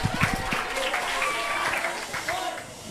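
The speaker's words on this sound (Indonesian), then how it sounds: "tepuk tangan untuk teman yang udah bertanya" Brief scattered clapping from a small group at a hepatitis education and screening event, fading quickly while a voice talks over it.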